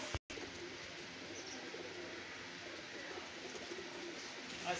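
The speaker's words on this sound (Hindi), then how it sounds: "ये ब्लीडर कबूतर है।" Soft, low cooing from breeder pigeons repeats steadily against a quiet background hiss, fairly close and unhurried.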